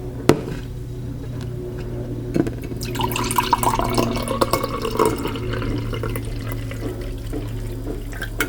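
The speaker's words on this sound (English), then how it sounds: "Pour it out." Beaver Buzz green tea energy drink pours steadily from its container, a continuous liquid splash and trickle running for several seconds with a low hum underneath and no talking.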